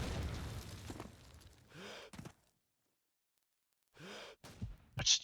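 A grenade thrown at the church in Call of Duty 2 on the Dawnville map, with two short muffled bursts separated by silence and a faint sharp pop at the end, quiet and distant.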